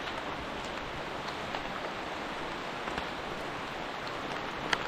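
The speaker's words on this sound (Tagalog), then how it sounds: "Ay milyon ho ang patak ng ulan." Steady rain patters on a surface, a dense even hiss with a few sharper drops, no voices.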